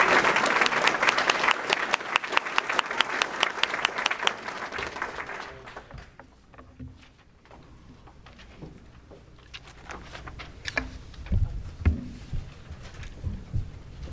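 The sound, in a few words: audience applause at a certificate ceremony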